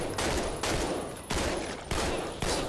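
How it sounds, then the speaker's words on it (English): Assault rifle fire in The Walking Dead: Survival Instinct comes as loud, close bursts of automatic shots, five separate volleys with short gaps between them. "I can really kill all these walkers like in this whole horde with this assault rifle right now"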